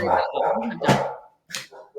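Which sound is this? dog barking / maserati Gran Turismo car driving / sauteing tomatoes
dog barking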